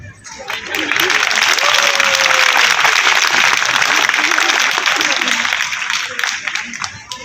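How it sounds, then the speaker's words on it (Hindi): Loud, sustained applause from a crowd at a state-level Lohri and Makar Sankranti ceremony, swelling in after a moment and holding steady before easing slightly toward the end. "कि तालियों के अंदर कंजूसी थी आपकी।"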